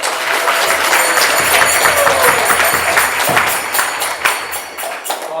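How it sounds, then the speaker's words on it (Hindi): Applause from the audience at an evening spiritual satsang in Mauritius, a full burst of clapping that holds strong and then thins out toward the end. "जोरदार तालियां से महाराज"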